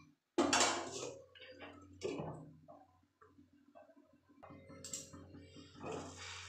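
A metal lid clanks onto a cooking pan of spiced masala for a potato and cauliflower dish, with a sharp close clatter followed by softer metallic knocks and scraping in a quiet kitchen.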